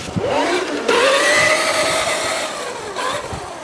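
An FMS FCX10 Chevy Blazer RC crawler running in second gear, its small electric motor whining loudly and steadily up close, rising and dipping in pitch as it drives.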